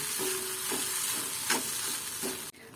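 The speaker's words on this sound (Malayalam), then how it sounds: "അതുവരെ നമുക്ക് നല്ലോണം ഒന്ന് മിക്സ് ചെയ്തെടുക്കാം." Chicken and onion mixture hisses softly in a hot pan while a spoon drags through it in a few slow, rhythmic scrapes, heard close and quiet with no voices.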